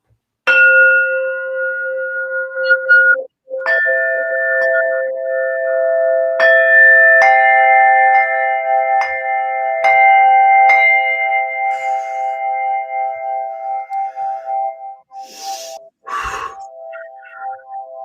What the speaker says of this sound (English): I'm going to play three of my crystalline bells here, tones.